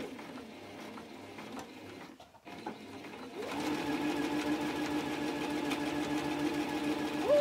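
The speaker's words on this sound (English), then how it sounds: "Sewing across that top edge again." A sewing machine stitches fabric along the top edge of a mug caddy, starting after a short quiet pause and then running in a steady close mechanical whir with a rhythmic needle clatter.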